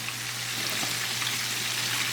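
Constant crackling sizzle of chicken pieces, four per batch, deep frying in hot oil in a big pan, close and steady with a low hum underneath and no talking.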